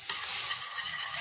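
Béchamel sauce in a pan with eggplant is stirred in quick scraping strokes over a continuous close sizzle.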